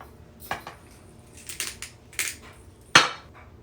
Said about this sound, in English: I'm going to put a lid on it then too